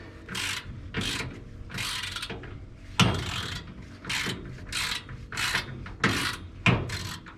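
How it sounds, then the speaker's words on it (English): A nut turns on the already stripped threads of a Camaro race car, giving a rhythmic series of close, sharp popping clicks about once a second, some louder than others. "It's just stripping those threads out that were already stripped out"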